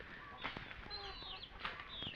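Rhode Island chickens cluck and squawk on a farm on Bantayan Island, Cebu, with several short, scattered calls close by over a soft outdoor background.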